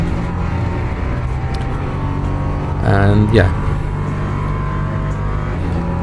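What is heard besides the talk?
race car engine in video game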